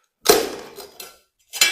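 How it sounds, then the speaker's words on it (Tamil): Small ceramic tile piece snapped by hand after scoring, balanced under a foot without a tile machine: a sharp close crack followed by brief clattering of fragments, then a second short snap near the end. "எப்பவுமே சின்ன பீஸ் உடைக்கும் போது அதை கட் பண்ணிட்டு இப்படி உடைக்கணும்"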